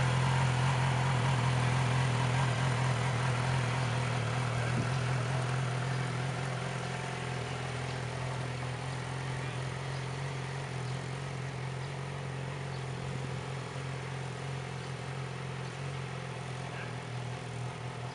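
A 2007 Yamaha R6 600cc sport motorcycle with stock exhaust idles steadily, rolling slowly on the clutch with no throttle, its low even engine hum close and continuous, easing slightly quieter toward the end.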